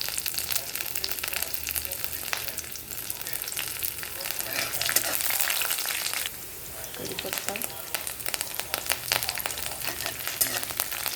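Mustard seeds, cumin, peanuts and green chillies fry loudly in hot oil for poha, a dense steady sizzle with sharp crackles and pops throughout, briefly dipping near the middle before crackling up again.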